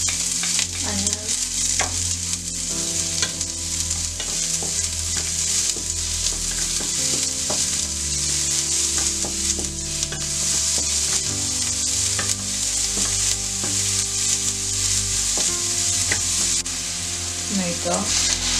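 Onions and garlic sizzle and fry steadily in a pan for a Filipino sautéed green bean, carrot and ground pork dish, with repeated scraping stirs over the constant hiss and faint talk in the background.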